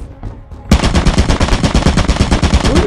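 A sentry turret in the video game Lethal Company opens up after a short quiet moment, a loud, dense, rapid stream of automatic gunfire that continues without a break to the end.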